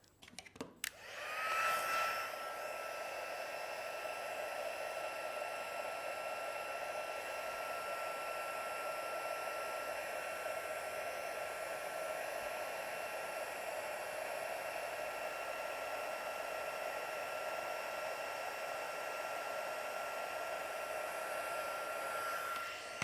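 A hair dryer starts with a click and runs at a steady, loud whir for over twenty seconds, drying fresh coloured pencil work, with no talk over it.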